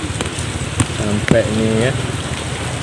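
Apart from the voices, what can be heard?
heavy rain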